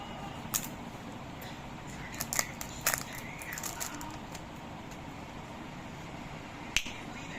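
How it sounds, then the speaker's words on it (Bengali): Crisp plastic clicks and crackles from a new sunblock being unpacked, a few sharp snaps scattered over a steady low background hum, close and fairly quiet. "এটা হচ্ছে সানব্লক, দেখি নতুনই আনপ্যাক করছি আর কি"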